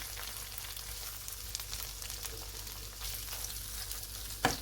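Whole shell-on shrimp, four of them, fry in oil in a pan while pad thai is being made, giving a steady close sizzle with light stirring scrapes and a sharp clink near the end.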